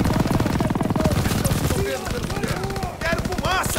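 Heavy machine gun fire fills a Call of Duty WWII battle, with rapid bursts and chattering shots while soldiers shout over the gunfire.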